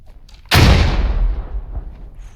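A loud, close grenade explosion in the Squad military shooter game, one sharp blast followed by a long rumbling boom that fades over two seconds.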